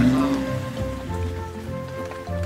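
Rain falling in a cartoon farm scene, soaking a truck, tractor and combine harvester left outside, a steady patter mixed with background music, with no one speaking.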